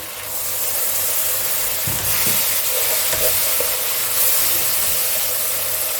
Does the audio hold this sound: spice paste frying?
yes